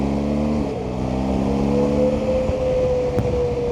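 Harsh, wind-buffeted motorcycle noise from a BMW R1250GS riding on the road, captured by on-camera microphones: a steady roar with an engine tone rising underneath, continuous and loud with no talk.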